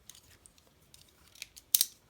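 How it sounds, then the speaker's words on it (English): Scissors cut through upper leather along pattern lines, giving a series of short, crisp snips that are faint at first and grow to a sharper, louder pair of cuts near the end. "I'm going to cut along the design lines like a stencil mark."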